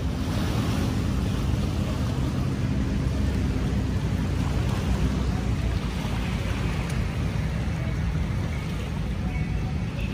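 Sea waves washing onto the shore along the Manila Bay baywalk, a continuous loud rumbling surge with wind buffeting the microphone throughout, no voices.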